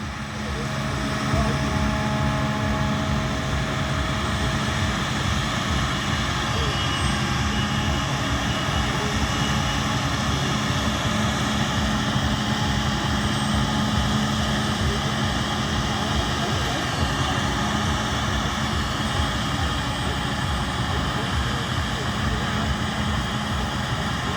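Claas combine harvester working a crop at a harvesting demonstration at the Royal Norfolk Show, a steady, loud broadband machine roar and rumble that holds unbroken throughout, with talk running over it.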